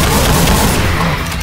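Rapid gunfire in the Doom mod Project Brutality, a dense, loud fusillade of overlapping shots with heavy low booms that sustains through the whole burst and tapers slightly at the end.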